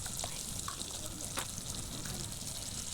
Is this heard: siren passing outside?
no